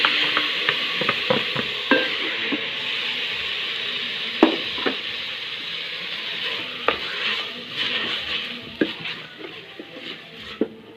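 Grated tomatoes hit a hot pan for Kenyan pilau and sizzle steadily, with frequent scraping and tapping of a stirring utensil against the pan throughout.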